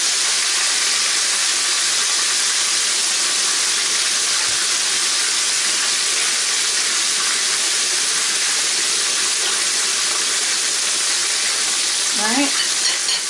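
Chicken sizzles loudly in hot oil, a dense, continuous crackling hiss that runs unbroken throughout, with a faint voice near the end.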